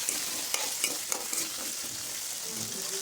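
Onions sauté in oil with curry leaves and salt in a pan for an eggplant curry. A steady, fairly soft sizzle runs throughout, broken by a few light scrapes as the spoon stirs.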